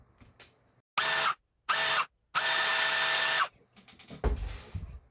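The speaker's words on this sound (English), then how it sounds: "when you go over to the drill press exactly where you need to drill at" A drill press whines in three bursts, two short and one longer, with quiet pauses between and some clattering handling noise afterward.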